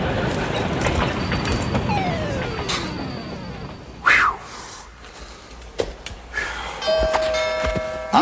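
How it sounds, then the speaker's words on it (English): A cartoon train approaches with ringing bell-like tones and rising whistle sweeps over a rumbling, clattering bed, ending in sharp bursts as it draws near. "Incoming train!"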